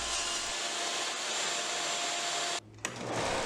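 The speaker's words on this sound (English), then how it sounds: "here's resawing on the table saw" A table saw resaws thick wood boards into thinner ones in a loud, steady, whining cut that holds for nearly three seconds, drops out abruptly for a moment and then resumes. Nobody talks.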